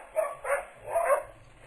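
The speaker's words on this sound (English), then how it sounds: "you can probably hear my dogs in the background" Several dogs bark in short bursts, about four barks spread across a couple of seconds, heard at a distance in the background of a home.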